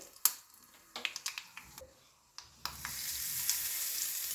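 Mustard seeds, hing, red chili and curry leaves hit hot oil for a chutney tempering, starting with sharp crackles and pops, then a loud steady sizzle swells and continues to the end.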